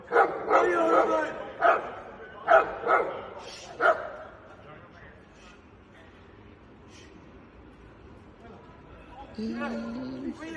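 Dogs on a London street bark in a loud, close burst of sharp repeated barks, then fall quiet, leaving a low murmur of people before a final yip.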